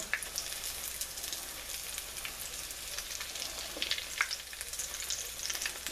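Fried cheese grits cakes crackle in a hot pan, a steady close sizzle with scattered small pops and spits throughout.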